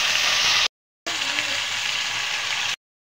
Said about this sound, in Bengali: ভালো করে পেঁয়াজটা ভেজে নেব